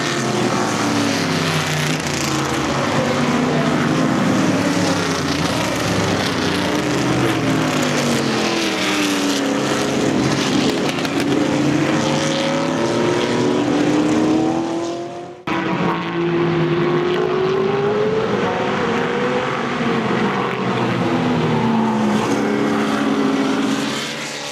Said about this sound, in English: We move further down the track to turn 4 to watch the large production cars in the next group.